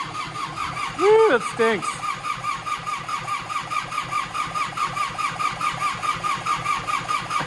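An old Kubota engine cranks and fires up, then settles into a loud, even, thumping idle that runs steadily throughout, with a person speaking briefly over it.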